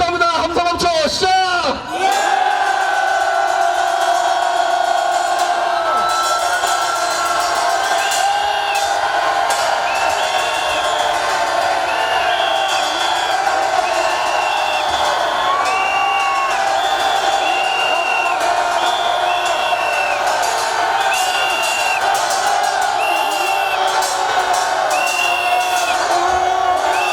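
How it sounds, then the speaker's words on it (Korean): A political rally crowd roars and shouts together for several seconds, a loud, dense wall of voices with whoops and cheering, and repeated tonal calls or whistles rise over the sustained din. "함성 5초합니다. 함성 5초 시작!"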